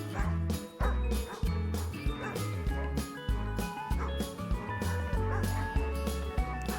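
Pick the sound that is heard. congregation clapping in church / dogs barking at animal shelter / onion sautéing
dogs barking at animal shelter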